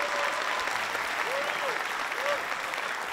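Hall audience at a Georgian league quarter-final competition applauding, a dense, even wash of clapping that continues throughout, with a few voices faintly rising over it.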